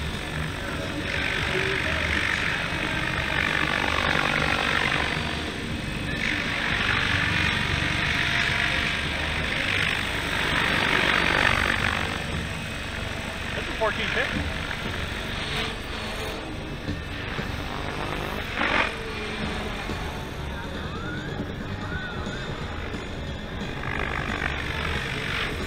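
A Protos 700 Evoluzione radio-controlled helicopter flies nearby at a 3D flying event in Las Vegas: a steady high-pitched whine with a roaring, buzzing drone, rising and falling slightly in pitch, loud and continuous.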